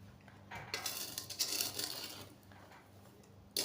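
Strawberries and sugar are stirred gently in a pot, with quiet scraping and light clinks of a utensil against the pot, heard faintly and alone.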